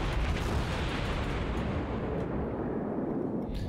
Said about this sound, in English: So now my guns are blue, and now I can hit a lot more.